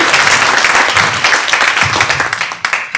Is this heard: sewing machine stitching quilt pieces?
no